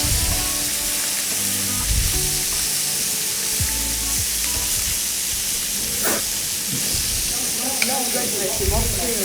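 Meat searing and browning in a hot pan gives a loud, steady sizzle with crackling spatters and occasional stirring scrapes throughout, and a voice speaks faintly in the background.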